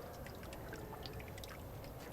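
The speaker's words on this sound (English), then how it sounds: "I can dip this into the vat, and the water will go through" Water draining through the screen of a papermaking mold lifted from a vat, a steady soft trickling and dripping patter that runs continuously and evenly throughout.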